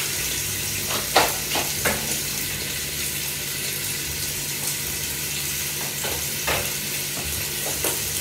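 Rabbit pieces browning in a pan for a Normandy-style rabbit dish, with a steady close sizzle and a few sharp clinks and scrapes of stirring over the frying.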